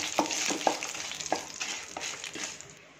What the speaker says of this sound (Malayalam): 1/2 ടീസ്പൂൺ പെപ്പർ, 1/2 ടീസ്പൂൺ കസ്കസ് നമ്മൾ പോപ്പി സീഡ് എന്ന് പറയില്ലേ, അത് എല്ലാം കൂടെ ഒന്ന് ഇളക്കി കൊടുക്കാം.